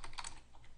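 Short run of rapid, close computer keyboard keystrokes while entering a username and password, fairly quiet and without talk.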